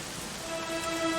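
Steady rain from Dragon Quest XI, a dense even wash of drops falling continuously and fairly close, alone with no voices.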